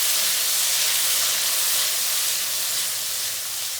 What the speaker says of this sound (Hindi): सूजी को हमने अच्छे से भून लिया है और अब हम इसमें डालेंगे कद्दू। इसे अच्छे से मिक्स कर लेंगे